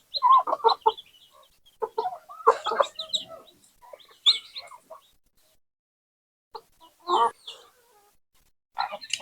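Native chicks cluck and peep in short scattered bursts while drinking saline water, close by with quiet gaps between calls.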